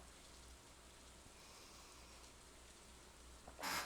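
Steady rain falling in the Sims 4 video game, an even soft hiss of drops throughout, fairly faint, with a brief louder burst at the very end.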